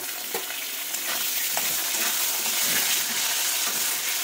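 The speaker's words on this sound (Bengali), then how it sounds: "একটু হলুদ, একটু লবণ দিয়ে আলুগুলোকে সুন্দরভাবে ভেজে নেবো।" Potatoes fry in a pan with turmeric and salt, giving a steady hiss and sizzle broken by scraping stirring strokes, close and moderately loud, with no talk.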